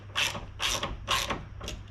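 Four bursts of ratcheting from a hand ratchet tightening a fitting on a Toyota Land Cruiser 200 Series during a Clearview mirror install, each stroke a short clicking run over a steady low hum.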